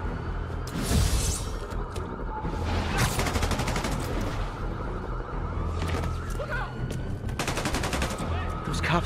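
Sharp sniper shots and bursts of gunfire crack repeatedly in Spider-Man Remastered as officers are pinned down, loud and spaced out, over busy city ambience with sirens wailing in the background.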